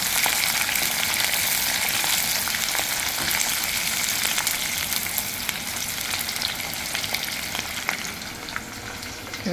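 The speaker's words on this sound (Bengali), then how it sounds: "আমি আগে থেকে কোচানো পেঁয়াজ আধা কাপ পরিমাণ মতো ছিল সেটাকে দিলাম ভালো করে নাড়িয়ে নিই" Chopped onions, about half a cup, sizzle steadily in hot oil in a pan for chicken curry while being stirred, a dense, close, continuous frying hiss with occasional scraping, no talking.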